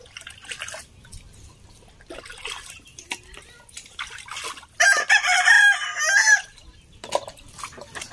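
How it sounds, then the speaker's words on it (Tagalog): Chickens clucking and a rooster crowing close by in a rural Filipino yard, scattered clucks followed by a loud crow midway, with dripping water and occasional faint voices in the background. "Dami mga manok dito mga kamaning"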